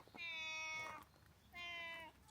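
A cat lets out two long, drawn-out meows in succession, close and clear, with a short pause between them.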